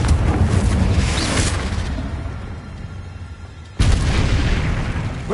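Confringo spell blasts in Hogwarts Legacy: a loud fiery boom that rumbles and fades over a couple of seconds, then a second forceful burst that rolls on to the end.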